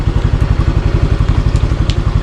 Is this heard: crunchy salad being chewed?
no